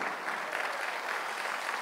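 A church congregation claps together in praise during a worship service, a dense, steady wash of many hands sustained evenly from start to finish, with no voices standing out.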